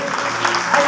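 Brief burst of congregation applause at a Hindi-language church service, steady dense clapping with a faint tonal hum beneath, lasting under a second.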